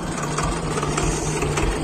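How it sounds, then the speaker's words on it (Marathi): Farm tractor running a rotavator (rotary tiller) in a field at sowing time, a steady, loud, close engine drone with a constant low hum and no pauses across the whole stretch. "ट्रॅक्टर चालू आहे"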